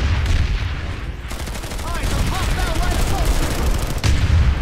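Gunfire and explosions crackle in the video game PlanetSide, with a dense, continuous rattle of shots and booming bursts, loud and close.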